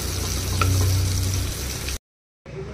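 Steady, loud sizzling of tempering spices hitting hot oil for tamarind pepper rasam, crackling throughout, then a brief silence before the frying resumes more quietly.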